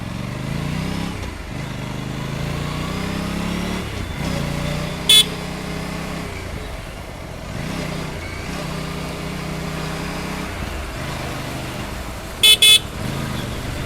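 An Aprilia RS457 motorcycle idles steadily while its thin, high-pitched horn beeps once, then twice more in quick succession.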